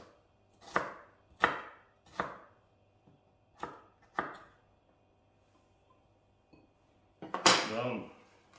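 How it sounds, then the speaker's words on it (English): A kitchen knife chops food into small cubes on a board, about eight sharp separate knocks spaced roughly every half second to second, heard close, with the last hit heavier and longer. "Cut them into small cubes."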